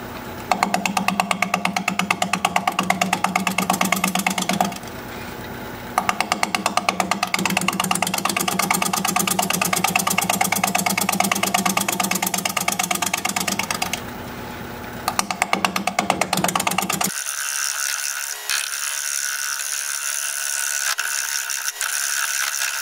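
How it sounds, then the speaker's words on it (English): A wood lathe spinning at 530 RPM turns a bowl against a 5/8 inch bowl gouge, giving a loud, steady rough scraping with regular cutting pulses, two brief pauses and then a quieter high whir. "I am going to turn with a bowl gouge."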